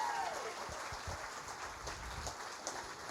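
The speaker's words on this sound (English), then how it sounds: "Please give them a great big round of applause." An audience applauds backstage staff at a stage show, with steady, moderately distant clapping that forms a dense patter throughout, lightly textured and without voices.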